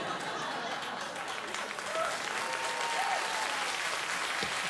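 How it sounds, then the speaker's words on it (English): A late-night talk show studio audience applauding: steady, dense clapping from a large crowd that holds at a constant level, with a few faint voices and a brief whistle-like tone inside it. "so they just applaud"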